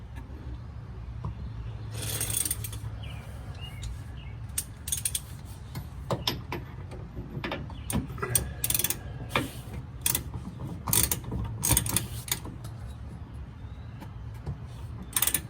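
A ratchet tightens a bolt on a Bilstein 5100 shock on a Chevrolet Silverado, with close, loud bursts of rapid clicking separated by short pauses and occasional metallic knocks.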